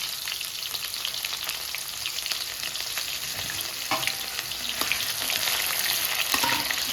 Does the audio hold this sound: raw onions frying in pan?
yes